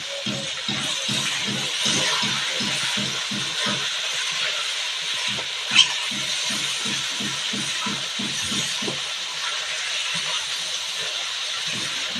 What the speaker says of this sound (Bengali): খাসির মাংসটাকে কিছুক্ষণের জন্য ভাজব